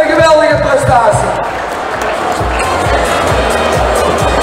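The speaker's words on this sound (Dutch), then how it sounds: "En geef ze een enorm applaus." A large indoor crowd gives sustained applause and cheering as the Sint-Nicolaas Heitse shooting guild walks in, with rhythmic clapping or drumming thumps underneath and a loud voice talking over the start.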